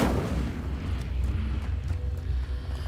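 The Incendio fire spell in Hogwarts Legacy erupts with a booming burst that tapers into a sustained low roar and crackle of flames, loud and close.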